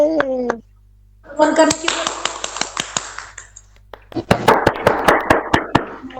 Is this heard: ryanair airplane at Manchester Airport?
no